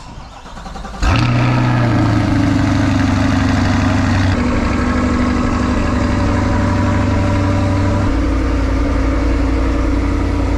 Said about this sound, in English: Most times in the morning when I start my car,